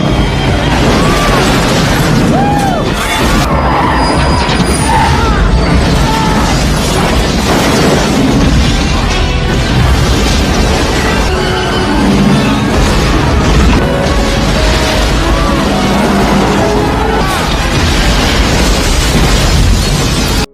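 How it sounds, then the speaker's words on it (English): An aircraft crashes spectacularly along the Las Vegas Strip in a movie, tearing through cars and buildings: loud continuous explosive booms, crashes and smashing debris with dense rumble throughout, no talk. "The Jailbird crashes spectacularly along the Las Vegas Strip, tearing through cars, buildings, and crowds"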